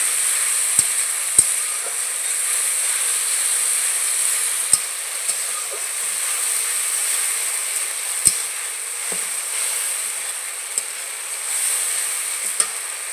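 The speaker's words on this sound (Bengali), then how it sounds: "টমেটো বাটা আর পেঁয়াজ বাটা দিয়ে আমি ভালো করে একটু কষিয়ে নেব" Tomato paste and onion paste sautéing in a pan, a steady soft sizzle running throughout with occasional faint clicks of stirring.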